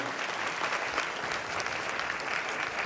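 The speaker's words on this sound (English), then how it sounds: "let's give an amazing round of applause to this panel, Cheryl" Sustained applause from an audience honoring a media industry diversity panel at a conference, a steady dense wash of clapping that holds evenly throughout.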